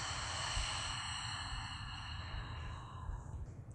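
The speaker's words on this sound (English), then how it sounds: "Exhale through your mouth." A single slow, deep exhale through the mouth during a yoga breathing exercise, soft and breathy, with faint sustained background music underneath.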